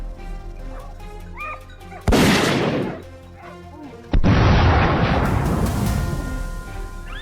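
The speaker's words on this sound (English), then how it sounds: "A burst of gunfire echoed through the air." Two heavy gunshots boom out during a wild boar hunt on farmland, each a sudden loud blast trailing into a long rumbling echo, with birds chirping and a low hum behind.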